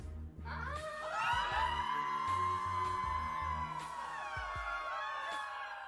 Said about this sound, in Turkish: Önce boyun kısmı kesiliyor ve bu esnada herkes çığlık atıyor.